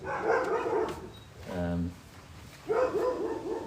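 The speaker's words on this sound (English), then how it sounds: "there's some dogs barking" Dogs bark in the background, a short burst of yelping barks mid-clip, fairly faint and distant, with a voice audible before and after.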